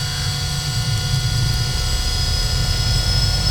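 A simulated Piper Malibu PA46T Jetprop turboprop engine in Flight Simulator X spins up, a steady loud whine and rumble holding even across the stretch, with no voices.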